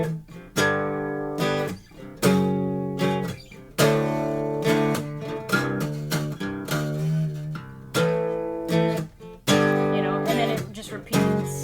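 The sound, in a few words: guitar playing bridge line of a song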